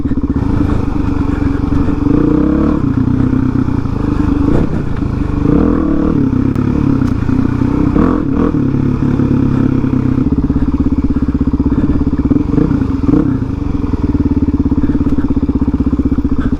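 A big motorcycle riding off-road along a rutted trail, its engine droning loud and steady throughout with brief clattering thumps as the bike works through the ruts.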